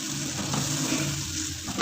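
Water is swirled in a blender jug and poured into a cooking pan while making malai kofta, giving a steady, close splashing and rushing sound.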